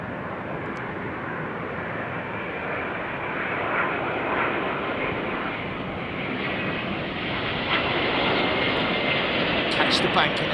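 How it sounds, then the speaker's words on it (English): A Boeing 787 Dreamliner comes in to land at Heathrow, a broad, steady jet roar that holds loud and close for the whole stretch and swells slightly toward the end. "it's a Dreamliner, so it'll probably use quite a lot of runway."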